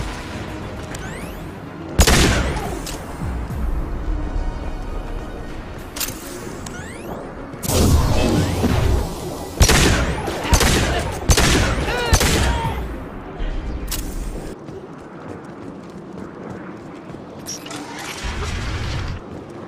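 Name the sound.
gunfire in the video game Mass Effect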